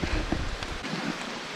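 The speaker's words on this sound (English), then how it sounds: "It's been pretty rainy and drizzly all day today." Light drizzle falling at a campsite at Hippie Cove in Cordova, Alaska: a soft, steady hiss of rain with a few louder patters early on, fairly close and alone.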